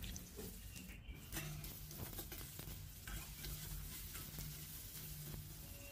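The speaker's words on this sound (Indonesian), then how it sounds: "Goreng kentangnya sampai sedikit kecoklatan." Potatoes fry in oil in a wok as they turn lightly brown, giving a steady soft sizzle with occasional stirring scrapes, close and quiet, with no speech.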